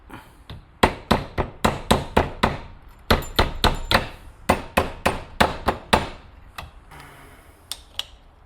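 Sharp metallic hammer taps on car connections in quick bursts of several strikes each, close and loud, with brief pauses between groups.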